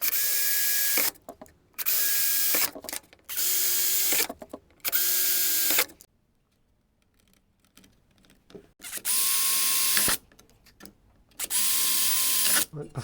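A power drill whirs in repeated bursts of about a second each, with a pause partway through, as it bores holes for brackets on fibreglass engine components of a 1967 Jaguar E-Type.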